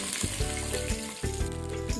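Curry mixture for a Bengali-style pabda fish curry with mustard seeds sizzles in hot mustard oil in a wok, a steady close-up frying hiss running through with a few stirring bursts.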